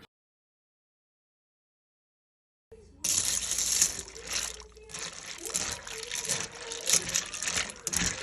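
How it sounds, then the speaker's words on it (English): Dry macaroni poured into a pot of milk heating on the stove, a rattling, splashy pour that starts abruptly after silence and continues with clatter and spatter under someone talking. "Just pour that mac in there when that milk just is not quite ready to start boiling."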